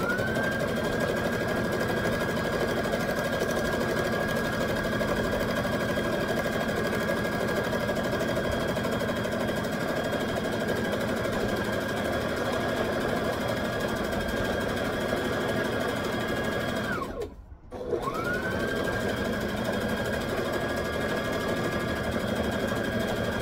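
A sewing machine runs steadily, stitching a seam on a wrap skirt, its motor hum loud and continuous, then cutting out abruptly for a moment before starting up again.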